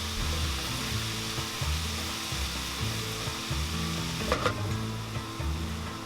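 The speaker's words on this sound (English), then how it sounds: "And you want to cook this until the sugar dissolves." Sugar and sauerkraut juice cook together in a pan, giving a steady soft sizzle and hiss throughout, with a rhythmic low thumping pulse running underneath.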